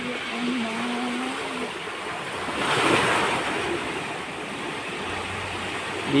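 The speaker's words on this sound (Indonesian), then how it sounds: "Datang ombak itu." Ocean waves surging toward a shore while spearfishing, a continuous loud wash of surf with wind buffeting the microphone, swelling to a fuller crash midway before easing back to a steady roar.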